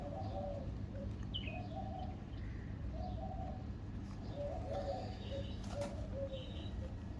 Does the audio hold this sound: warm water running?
no